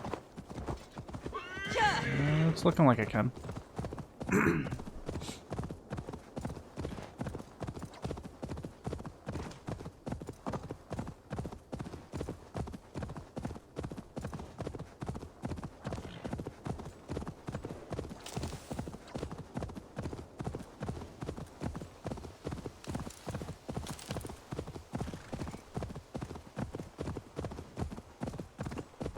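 A horse whinnies loudly in the video game Assassin's Creed Valhalla, then steady rhythmic clip-clop of hooves continues at a trot; a voice briefly speaks near the start.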